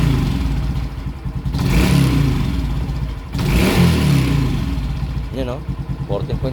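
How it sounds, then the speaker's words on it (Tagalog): A motorcycle fitted with a swing arm conversion revs in short bursts up close, two rising surges over an idling engine with clatter, and someone talks briefly toward the end. "Rev tayo konti."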